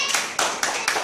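Young schoolchildren in a classroom clap together, four crisp group claps in a brisk, even rhythm, close and clear, with a voice briefly heard alongside.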